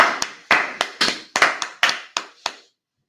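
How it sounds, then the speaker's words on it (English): A class at a Monday night session claps for their teacher: nine or ten distinct, sharp handclaps in a slow, roughly even rhythm, close and clear with no talking, then silence. "Clap it up for the teacher."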